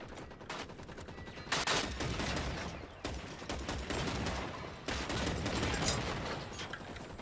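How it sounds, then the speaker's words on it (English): A turret fires in the video game Generation Zero, loud rapid bursts of automatic gunfire in long sustained strings with brief pauses between them, close and continuous. "The turret's working nicely."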